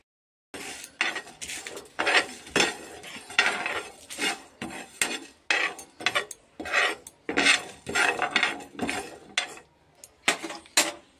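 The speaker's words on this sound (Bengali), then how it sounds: "আস্ত জিরে। এটা শুকনো খোলায় আমি একটু ভেজে নেব" Whole cumin seeds are dry roasted in a pan, the metal stirrer scraping and rasping in short irregular strokes. The clatter is close and fairly loud, with brief pauses between the strokes and no speech.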